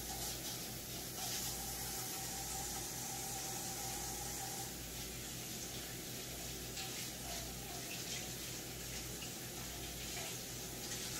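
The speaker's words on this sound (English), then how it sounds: "Let me wash my hands." Tap water running steadily into a sink while hands are washed between steps of prepping pork chops, a constant close hiss and splash with small shifts in the stream.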